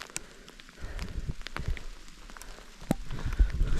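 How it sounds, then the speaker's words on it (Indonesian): Steady rain patters on the surface of a Mount Rinjani hiking trail, a continuous dense hiss with scattered close drops and a few louder knocks, with no talk over it. "Ini sekarang hujan, jalannya licin,"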